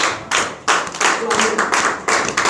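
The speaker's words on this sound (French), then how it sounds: "Acclamons pour Jésus" A church congregation clapping for Jesus during a sermon, several rhythmic bursts of many hands with short gaps between them, fairly loud and close.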